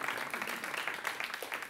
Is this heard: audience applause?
yes